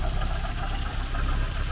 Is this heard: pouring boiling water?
no